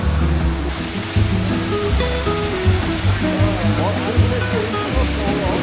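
Tap water runs in a hotel room in Krabi, Thailand, a steady close rushing hiss that continues throughout while voices speak over it.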